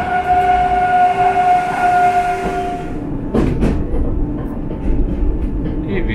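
A Polish Regio regional passenger train rolls past with a steady tonal hum, then sharp rattles and clacks of wheels over rail joints as it goes by.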